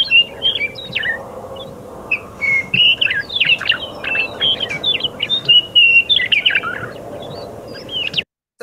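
A Western meadowlark sings alone and close, a series of bubbly, fluting whistled phrases over a faint steady background hiss.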